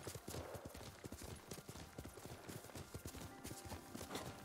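Rapid, rhythmic hoofbeats of a galloping horse in the video game Ghost of Tsushima pound steadily and close, with a constant background hum behind them.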